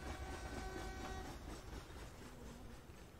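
A train rumbles past near tracks at night in the horror game Summer of 58, a continuous low heavy roll with faint tonal whine, steady and fairly close, no talking.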